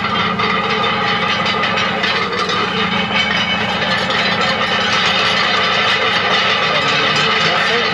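A tractor engine runs steadily and loudly while driving forward during spring drilling, a constant mid-pitched mechanical drone with rattling, and a voice talking over it.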